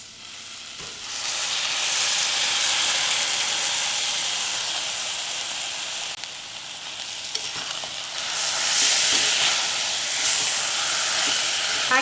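Ground masala paste sizzles and fries steadily in a pan, a loud continuous hiss with occasional stirring scrapes, heard alone.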